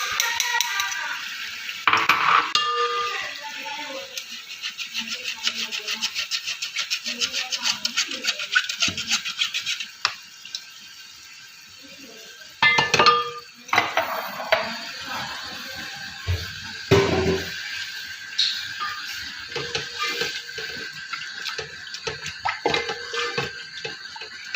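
A spoon scrapes and stirs yogurt into fried masala in a pot for fish shorba, with clinking against the metal and a faint sizzle while someone talks over it.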